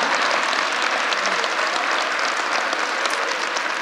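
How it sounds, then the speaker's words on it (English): Applause fills the room at a bill-signing event with the governor and the House speaker, dense and even clapping from a large audience, sustained and fairly loud throughout. "you can applaud for that"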